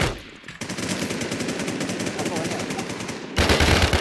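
Automatic gunfire in the Infestation survival shooter, a rapid continuous burst of close, loud shots lasting several seconds, followed by a louder crack at the end.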